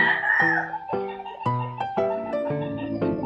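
Close, loud rooster crowing fills the moment in a series of strained, stepped harmonic calls that repeat at a quick, uneven pace.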